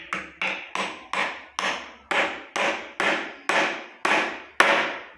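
A hammer taps a bearing into a wheel in a steady run of about eleven sharp metallic blows, each ringing briefly, close and loud with no talk.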